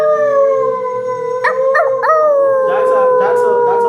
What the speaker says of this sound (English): Show them a threatening howl,